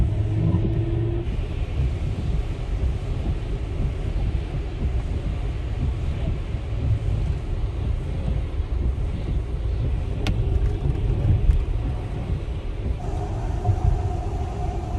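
Tesla Model X driving on a wet road in the rain, a steady loud low rumble of tires and road noise heard from inside the cabin, unbroken throughout.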